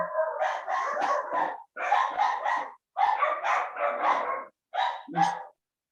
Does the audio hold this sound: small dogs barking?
yes